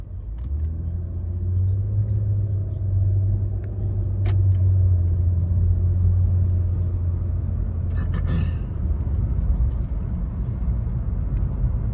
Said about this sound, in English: now we're gonna go ahead and take it on a quick test drive